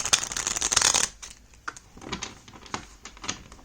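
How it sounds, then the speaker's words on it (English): Tarot cards being shuffled up close, a quick riffle burst followed by softer scattered taps and slides of the deck. "I'm gonna shuffle one more time"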